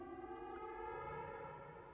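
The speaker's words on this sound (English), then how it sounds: "That is the sound of a warp cannon." A warp cannon fires in the strategy game Xpiratez, a faint, sustained, siren-like electronic tone with layered harmonics and no voices over it.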